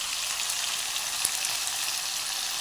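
Paneer fries in hot oil, giving a steady, dense sizzle with one small pop near the middle and no talking.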